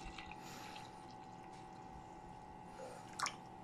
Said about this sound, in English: I'll show you how high I usually pour the coffee.